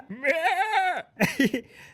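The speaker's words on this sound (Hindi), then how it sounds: "वो कुछ नहीं होता, बकरा है।" A goat bleats once in a loud, close, wavering call lasting nearly a second. It is followed by a shorter, rougher sound that may be a second bleat or a voice.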